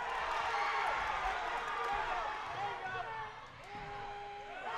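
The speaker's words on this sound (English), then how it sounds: "Listen to that crowd" A loud indoor crowd roars and cheers throughout a boys high school basketball game against Lawrence, with sneaker squeaks and court noise beneath the sustained din.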